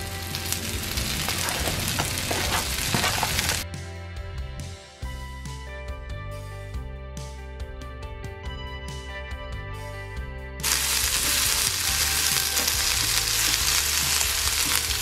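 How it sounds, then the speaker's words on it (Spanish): Green peppers, mushrooms and red onion fry in a pan with a loud, dense crackle. Midway the sizzle drops away under a stretch of tonal music, then the frying returns in full. "Voy a poner los pimientos, el pimiento verde y unos cuantos champiñones."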